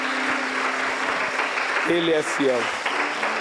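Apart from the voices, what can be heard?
church congregation applauding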